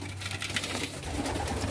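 Four-week-old young pigeons coo close by, soft low repeated murmuring calls layered over a steady background hum.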